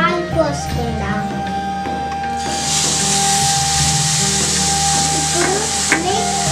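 Milk poured into a hot pan of frying grated coconut for laddoos, a loud sudden hiss and sizzle swelling up and holding steady, with faint scraping of stirring and a voice talking at the start.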